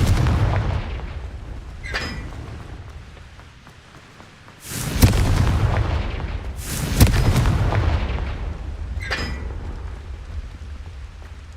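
A Confringo blasting spell explodes in the Hogwarts Legacy video game, giving several loud booming blasts with crackling bursts over a rumbling battle background, with two heavier explosions in the middle.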